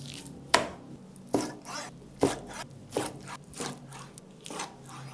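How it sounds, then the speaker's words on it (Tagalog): Deboned chicken breast being cut into bite-size pieces, with a series of sharp knife chops striking the board at an uneven pace, close and moderately quiet, followed by softer slicing strokes. "Hiwain natin to ng bite size."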